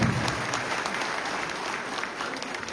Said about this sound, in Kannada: ಜೋರಾದ ಚಪ್ಪಾಳೆ ಮಾಡ್ತಾರೆ